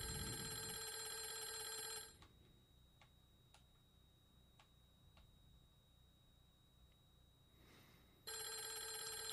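An electronic telephone ring in the horror video game Clock Tower: a steady, buzzing tone sounds for two seconds, then a quiet pause with faint ticks follows, and the ring returns loudly at the end.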